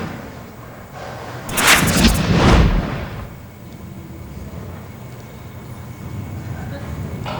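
A bowling ball crashes into the pins in televised 5-pin bowling, a loud clattering burst that fades into the low hum of the lanes.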